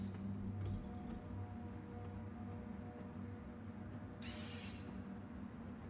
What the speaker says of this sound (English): let's get the owl again.